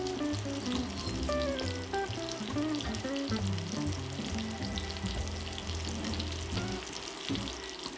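Tilapia fillets pan-searing in spice-flavored oil give a steady, close sizzle and crackle throughout, half buried under loud melodic background music.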